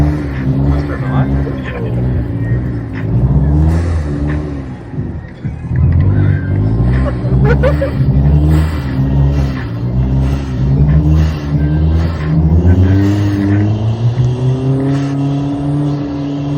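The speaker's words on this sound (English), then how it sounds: "Oh, it's so loud. Yo, your car's actually dumb." A car engine revs and roars repeatedly while drifting through a snow storm, loud and close with rising and falling pitch sweeps, as people talk over it.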